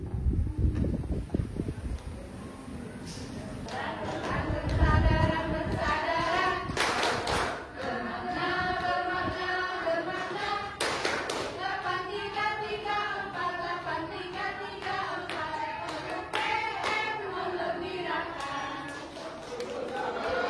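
An audience at a PM talk show in Temanggung performs the tepuk sakinah routine, clapping in patterned rhythmic bursts of sharp, close claps while voices chant along throughout.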